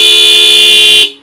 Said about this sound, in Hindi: आपको देखने को मिलेगा हॉर्न, जो कि इसके अंदर लगाए गए हैं ओरिजिनल हेला के, उसकी भी साउंड चेकआउट कराता हूँ कैसी होती है आपको